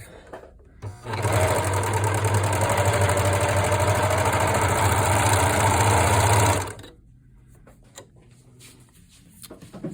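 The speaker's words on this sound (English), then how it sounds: "So now all 4 layers are serged" A serger sewing machine stitches through four layers of fabric in one steady, loud mechanical run of about five and a half seconds, humming and rattling close up before stopping, with quiet handling afterward.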